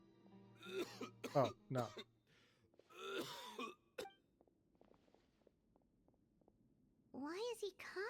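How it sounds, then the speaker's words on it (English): A character in the video game Genshin Impact coughs and clears his throat in several harsh, close bursts, with quiet gaps of faint clicks between them and a short spoken line in the clip. "Why is he coughing so much?"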